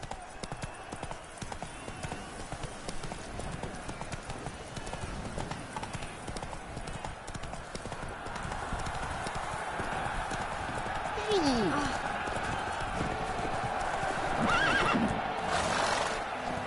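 Roach, the horse in The Witcher video game, gallops with rapid, close hoofbeats throughout and gives a clear whinny partway, while game sounds and distant voices swell toward the end.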